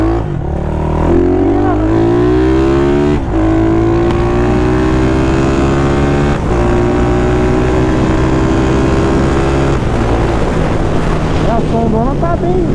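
A remapped 470cc Honda Start motorcycle engine revs while riding, a loud, close droning roar that climbs in pitch in several pulls, heavily buffeted by wind noise.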